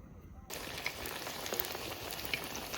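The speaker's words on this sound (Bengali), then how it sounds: "আস্তে আস্তে জাল দিয়ে ভাজতে হবে বেগুনি" Oil sizzles and crackles steadily as eggplant fritters deep-fry over low heat, a dense hissing bubbling close by after a quiet start.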